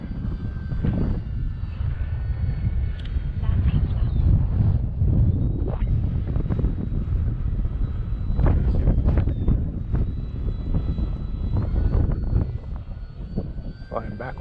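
Strong wind roars across the microphone during a flight in an Arrows Bigfoot aircraft, a loud, constant low buffeting with an engine drone and thin tonal whine underneath, and a voice talking through it.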